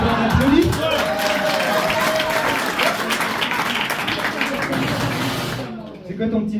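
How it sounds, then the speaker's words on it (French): Audience applause from a comedy club crowd fills the room, dense steady clapping with some cheering that holds for several seconds before fading out, voices mixed in under it. "on applaudit"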